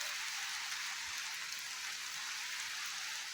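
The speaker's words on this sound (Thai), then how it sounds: "ฝนมาแล้ว" Rain falling steadily outdoors at a rural homestead, a continuous even hiss of drops on surfaces, moderately distant and unbroken, with no voices.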